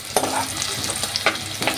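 Peanut powder is stirred in a frying pan while making a farali misal, with a few close scraping strokes over a soft background sizzle and no talking.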